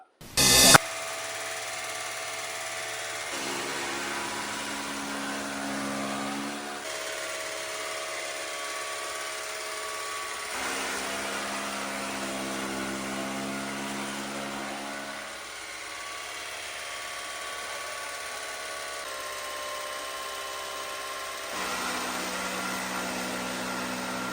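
A new elephant-model straw and grass cutting machine runs with a steady, close motor drone. Its tone shifts slightly from one stretch to the next, and no one speaks.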